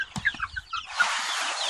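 Young chickens in a coop give several short, close clucks, followed by a continuous rustling hiss.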